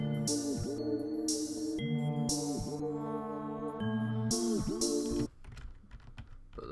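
FL Studio drum pattern with open hi-hats and 808s, played without slides: steady loud looping beat of booming 808 bass notes and bright bursts of open hats, cutting off abruptly after about five seconds into a faint tail.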